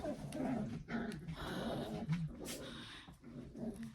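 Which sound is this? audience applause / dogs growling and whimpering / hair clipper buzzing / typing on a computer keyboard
dogs growling and whimpering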